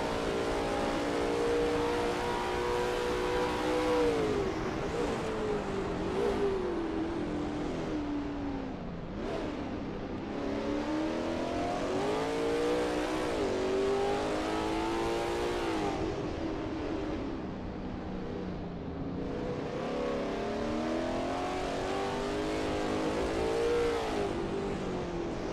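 A Lola T70 MkII Spyder race car in a racing video game laps Road America on a qualifying run. Its engine screams loud and close, rising and falling through repeated gear shifts and corner braking for the whole stretch.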